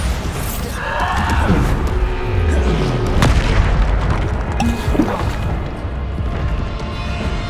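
A Bombarda spell explodes in the Hogwarts Legacy video game, giving loud, heavy booms with crashing debris. A voice briefly shouts over the blasts.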